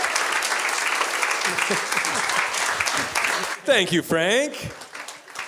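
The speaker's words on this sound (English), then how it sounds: "another big round of applause" Audience applause at a live storytelling event, a dense steady wash of clapping that fills most of the stretch, with a voice speaking briefly near the end.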